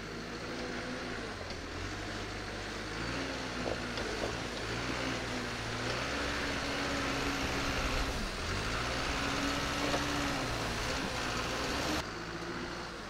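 A green Canter 4x4 truck engine labours steadily through a complete hill climb, a loud continuous diesel drone with shifting low tones and no pauses throughout.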